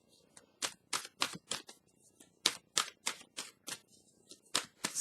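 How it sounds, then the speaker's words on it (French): Tarot cards are laid down one after another on a table, producing a quick series of crisp, close slaps and flicks in uneven rhythm, about a dozen in all, with no speech. "Je vais juste déposer les cartes pour qu'on puisse bien les voir."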